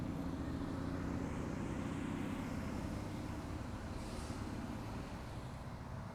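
A steady, distant wash of highway traffic and trucks heard from a park in Tampa, Florida: a continuous low rumble with faint hiss, no single vehicle standing out and no talk.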